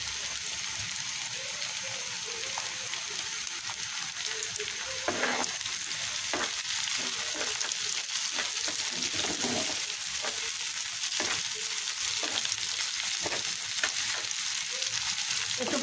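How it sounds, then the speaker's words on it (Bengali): Onion and garlic fry in hot oil, a steady rain-like hiss with light crackling and intermittent stirring knocks from a utensil, close and even in level with no talking. "এখানে তেল দিয়ে দিয়েছি আর পেঁয়াজ রসুন দিয়ে দিয়েছি, একটু ভেজে নেবো"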